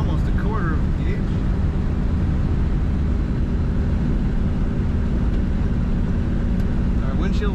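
A 1957 Chevrolet 210 Sport Sedan Fuelie with an automatic transmission cruises on a highway, its steady road and engine drone filling the cabin at a constant level while someone talks over it.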